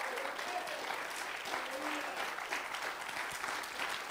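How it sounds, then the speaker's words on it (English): A church congregation claps in praise, a steady, even wash of hand claps from many people lasting several seconds at moderate distance. "Let's give the Lord a hand clap of praise."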